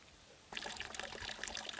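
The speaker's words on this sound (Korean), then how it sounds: "맑고 차갑게 흐르는 물소리도 암자의 정막을 깨지는 못한다" A clear, cold mountain stream near a hermitage starts suddenly and then runs on as a close, bright trickle and splash of flowing water.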